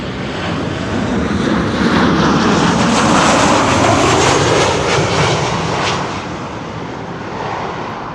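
A Boeing 747 landing at Amsterdam Schiphol roars loud and close, a broad, steady jet rumble with a swelling whine that peaks midway and then eases slightly as the aircraft passes, with no voices.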